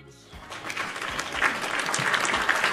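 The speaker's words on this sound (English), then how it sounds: "That deserves a round of applause." Applause breaks out after a brief quiet start, a dense patter of many hands clapping that swells and holds steady at moderate loudness in a casual indoor setting.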